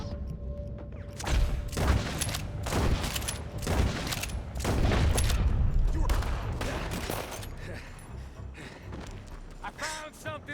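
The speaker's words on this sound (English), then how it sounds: "Damn it, I almost shot Micah." A Red Dead Redemption 2 gunfight plays out as a run of repeated, fairly loud shots booming amid busy combat noise, with voices talking over the action.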